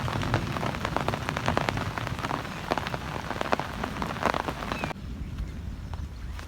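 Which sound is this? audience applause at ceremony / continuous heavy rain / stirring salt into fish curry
continuous heavy rain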